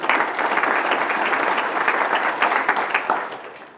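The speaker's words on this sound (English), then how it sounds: "She deserves a round of applause even if she isn't," An audience at a city address claps warmly and steadily for the full stretch, a dense, even wash of many hands from start to finish.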